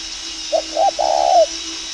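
A young spotted dove gives a soft, close coo in three parts: two short notes, then a longer drawn-out one, over a steady low background hum.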